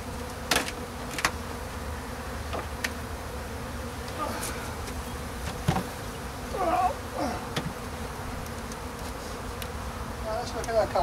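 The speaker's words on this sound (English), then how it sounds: "you might find the bees are going to get quite aggressive because there's a few there" Honey bees buzz steadily in an open hive during a spring inspection, a soft continuous hum with individual bees zipping close past the microphone, while a person speaks quietly now and then.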